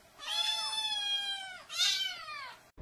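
A domestic cat meows up close and clearly, giving one long drawn-out meow followed by a shorter, louder one, with no talking.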